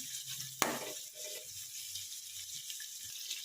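Onions softening in oil over a medium flame, a quiet, steady sizzle with one sharp clink of a utensil near the start and faint kitchen movement around it.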